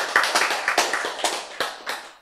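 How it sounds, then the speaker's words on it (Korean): Sharp hand claps ring out in a fairly rapid series of about six to eight strikes, close and clear, with no talk over them. "그리고 박수 한번 쳤지"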